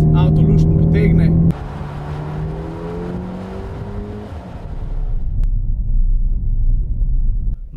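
A Mercedes-Benz GLB 35 AMG accelerates along a road, its engine note climbing in a rising sweep after a brief opening sound, then settling into a louder, steady rumble of tyres and engine toward the end.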